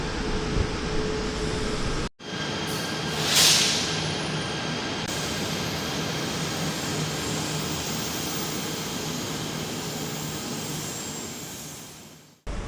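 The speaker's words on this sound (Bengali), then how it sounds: "দেখলাম একটা ট্রেন আসছে" A KTM commuter train in Malaysia rumbles steadily and loudly close by as it arrives, with a short burst of hissing air partway through before the noise continues unchanged.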